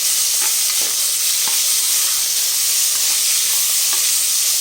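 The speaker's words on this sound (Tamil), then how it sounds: "நம்ம அரிஞ்சு வச்ச தக்காளியும் போட்டுடலாம். இது நல்லா கிரேவி மாதிரி நல்லா வதங்கணும்." Chopped tomatoes sauté in hot oil for chicken kulambu, making a loud, steady sizzling hiss with faint stirring knocks beneath it, very close.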